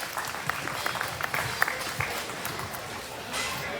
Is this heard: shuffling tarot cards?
no